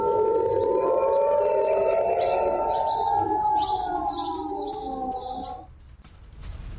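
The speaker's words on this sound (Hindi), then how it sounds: "सीज फायर के बीच बहरीन में बजे हैं सायरन" Air raid sirens in Bahrain wail, rising and falling together over a steady background, sounding from a distance before fading out near the end.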